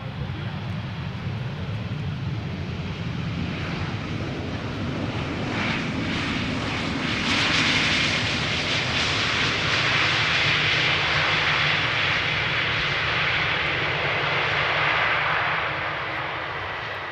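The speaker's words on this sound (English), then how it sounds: "This is Finnair Flight 1301, Airbus A321, arriving from Helsinki, Finland. Now touching down after 2 hours and 8 minutes of flight." Finnair Airbus A321 jet from Helsinki touching down at Amsterdam Schiphol Airport: a steady, loud engine roar that swells and thickens midway, then holds a broad rushing drone to the end.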